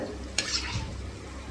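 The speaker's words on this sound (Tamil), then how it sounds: "நல்லா கொதிக்க ஆரம்பிச்சிருக்கு" A pan of Chettinad brinjal kuzhambu, a curry, bubbles and sizzles steadily at close range, with one brief metallic clink near the start.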